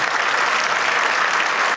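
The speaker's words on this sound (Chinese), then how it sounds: "我们给他一个热烈的掌声，感谢他们" An audience at a memorial ceremony for ninety-year-old veterans of the Guningtou battle on Kinmen claps steadily, a dense close applause filling the whole moment.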